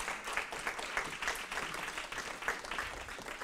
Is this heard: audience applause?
yes